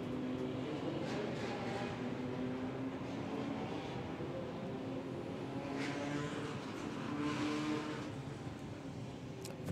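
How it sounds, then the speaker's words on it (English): Street stock race cars roll into position before a 50-lap main event. A low, steady rumble of several engines carries from a distance, with faint revving swells and no talk. "Our street stocks beginning to roll into position."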